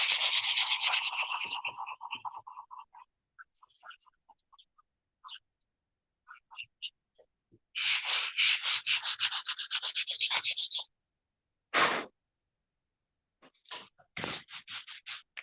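Close, rhythmic scratchy strokes of 220 grit sandpaper on carved wood, in quick bursts of back-and-forth rubbing broken by silent pauses and a few lighter taps.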